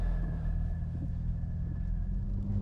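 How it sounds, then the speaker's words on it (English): A 2025 BMW M4 CS pulls away with a deep, steady engine rumble, heavy and low, droning continuously at moderate loudness from inside the car. "you can predict how good this car sounds."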